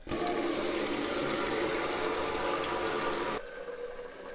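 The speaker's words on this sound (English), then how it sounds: "which means running this tap for a little bit" Cold tap water runs steadily into a sink for a few seconds, a loud broadband hiss and splash that cuts off abruptly near the end, leaving quieter room noise.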